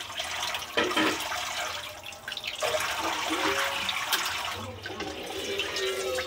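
Raw chicken is rinsed under a running tap, a steady close stream of water with splashes and brief handling clatter as the pieces are washed, with no talk.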